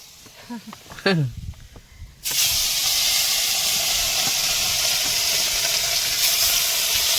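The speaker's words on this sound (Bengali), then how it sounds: "খয়রা মাছ মুচমুচে ভাজা।" Khoira fish deep-fries in hot oil on a boat on the Matla river, a loud, dense, continuous sizzle that bursts in suddenly and holds steady, after a brief voice and clatter at the start.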